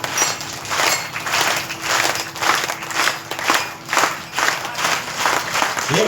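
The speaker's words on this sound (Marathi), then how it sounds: "टाळ्यांचा आवाज येतात." Audience clapping at a Marathi devotional kirtan and powada performance, with a steady crackle of many hands rising and falling in waves across the whole stretch, fairly close and without any voices over it.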